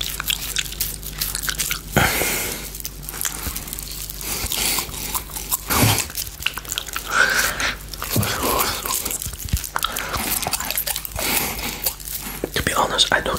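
Biting and chewing on a giant unicorn-shaped gummy, with close, wet mouth crunches and chews recurring through the clip alongside soft whispering.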